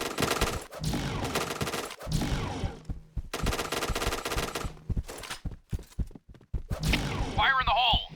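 Rapid bursts of SMG fire in the shooter game Point Blank, loud close rattling volleys broken by short pauses, with game voice effects and a brief electronic sound near the end.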